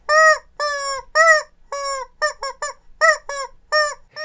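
A run of shrill, squeaky chicken-like calls, about a dozen short bursts in quick succession with brief pauses, loud and close, with no talking.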